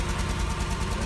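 A 1990 Subaru 2.2 engine fitted in a converted van idles smoothly, giving a steady, even low rumble with a regular pulse, heard close and alone with no talking.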